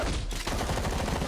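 Rapid-fire gunshots from the video game Lost Ark form a dense, continuous burst of loud shots with no pauses, running through the whole short stretch with no talking.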